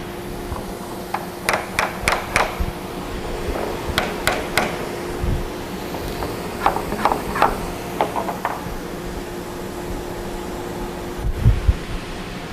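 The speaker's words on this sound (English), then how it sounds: "Pressing the clicker turns on the vacuum so I can make sure the blank is held firmly." A steady mechanical hum of a Thermwood CNC machine's vacuum hold-down pump runs throughout, with bursts of sharp tapping and clicking knocks over it.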